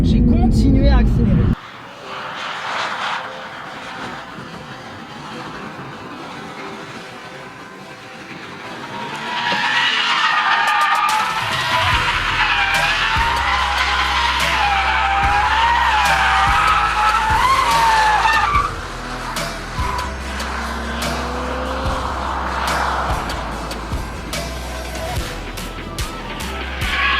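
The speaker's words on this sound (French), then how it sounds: "Je freine, j'arrive un peu vite dans le virage. Je mets un coup de gaz. Et là, à moi de le maintenir." A Toyota GR Supra drifting through a corner under braking and throttle, with loud sustained tire squeal and skidding over a revving engine, close by. Someone talks throughout.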